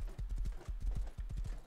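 An armoured horse in the video game Rust trots with rapid, evenly paced clip-clop hoofbeats, close and fairly soft, with no voices.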